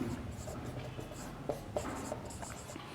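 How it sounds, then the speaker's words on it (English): Marker or chalk writing on a board during a geometry lesson on the basic proportionality theorem, a steady scratchy stroking with a few sharper taps, fairly close, with faint room noise behind it. "Now let me write down."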